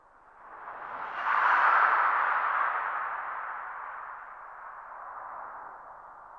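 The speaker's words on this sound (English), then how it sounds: "The explosion sounds like this." A tinny, band-limited explosion: a swelling rumble-free whoosh that peaks early and slowly fades, thin as if through a tiny speaker.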